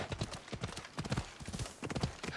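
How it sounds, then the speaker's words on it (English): Horse hooves clip-clop at a quick, even trot in the Assassin's Creed Odyssey video game, a close rhythmic run of muffled thuds lasting a couple of seconds. "Okay, horsey, there you go. You got this."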